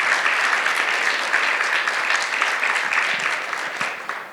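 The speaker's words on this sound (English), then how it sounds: "Can we get a round of applause for that?" An audience at a community care summit applauds in a dense, sustained burst of clapping that stays loud and fairly even, easing slightly near the end.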